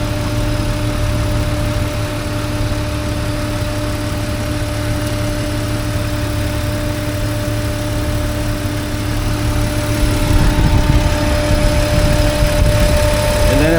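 2005 Jeep Wrangler TJ engine idling with the hood open and a rear PCV vacuum hose fault: steady close mechanical hum with a constant whine, running alone and growing slightly rougher near the end.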